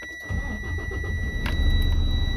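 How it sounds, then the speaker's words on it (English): A manual-transmission truck's engine cranks and fires after a moment of quiet, then settles into a loud, steady low rumble, with a high-pitched electronic tone continuing throughout. "We're going to start our truck."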